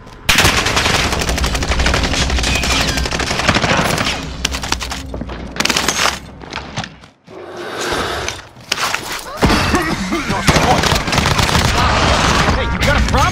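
Heavy automatic gunfire rattles through a zombies shooter game in dense, loud bursts with booms, briefly dropping out midway before resuming, with game voices underneath.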